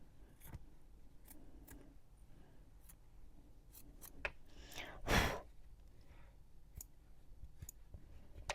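Scissors trimming fabric for a wall hanging, heard as scattered quiet snips and clicks with one louder cut in the middle, close and otherwise nearly silent.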